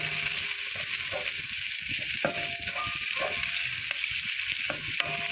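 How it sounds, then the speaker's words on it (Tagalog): Garlic and onion sautéing in a pan, a steady hissing sizzle, close and fairly loud, with spatula scrapes and clicks against the pan at irregular intervals and no speech. "So isusunod ko itong nagisa kong bawang at sibuyas."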